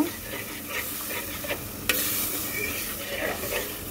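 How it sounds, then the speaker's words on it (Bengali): A spoon stirs spice masala mixed with a little water in a pan for a tengra fish dopeyaja, giving a steady scraping, gentle sizzle with a few sharper clinks, close and moderately loud, no talking. "এইবার সব কিছু মিক্সড করে দেব।"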